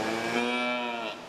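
Angus cattle moo in a long, drawn-out, loud call with rich harmonics at a large breed cattle show, a single low bellow lasting over a second with faint crowd ambience beneath.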